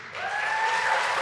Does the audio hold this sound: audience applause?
yes